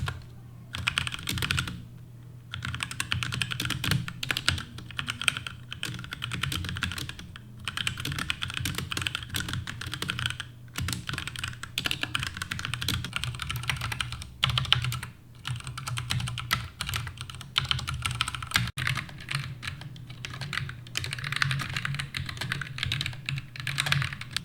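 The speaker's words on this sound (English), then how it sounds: "here's what they sound like when being compared to Ducky Browns and Rocat's Red Titan switches" HyperX Aqua mechanical keyboard switches typed on in turn with Ducky Brown and Rocat Red Titan switches, bursts of rapid close clacking keystrokes with brief pauses between sets, steady and fairly loud.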